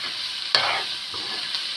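Tomatoes being stirred into a hot pan for Kerala-style egg roast, a steady sizzle of frying broken by sharp scraping strokes of a spoon, close and clear with no talking.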